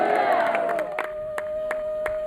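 A church congregation cheering with a high, wavering voice that fades out, followed by a few sharp, scattered claps in a short, lively burst.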